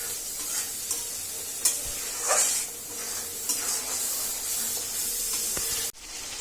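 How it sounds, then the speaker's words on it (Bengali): Biryani masala paste for mutton biryani frying in a pan, a loud continuous sizzle and hiss with repeated stirring scrapes, cutting off abruptly near the end. "তো এখন আমি মশলাটা কষাই নিই ভালো করে"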